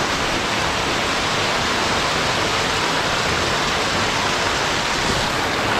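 Heavy water pours from a road drain overhead onto the ground under a bridge, a loud, continuous roaring splash with no breaks.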